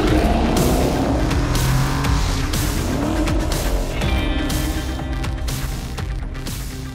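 Kia Stinger GTS drifting at an auto show reveal, tires squealing in long wavering bursts over a loud, steady engine roar that fills the whole stretch.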